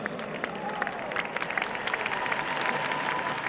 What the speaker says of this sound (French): Je dois applaudir très fort Pierre-Lou Bouquet et Silva dos Reyes.